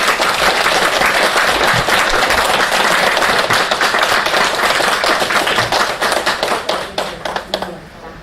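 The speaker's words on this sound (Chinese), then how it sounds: "给两位再鼓掌。" Audience applause fills the room at a Buddhist teaching gathering, with dense steady clapping that thins into scattered individual claps toward the end.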